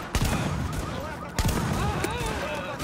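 Rapid 12-gauge shotgun blasts in The Division video game, loud repeated bursts over dense gunfire and action noise, with someone talking over the shooting.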